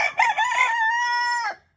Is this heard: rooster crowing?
yes